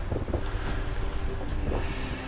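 Wind buffeting a sailboat under genoa alone in 14 knots of true wind, a steady loud rushing roar over the microphone with low rumble and no pauses.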